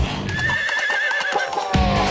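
Horse neighing, a loud close whinny with a wavering pitch that runs most of the moment, ending in a burst of noise, with a few hoof sounds around it.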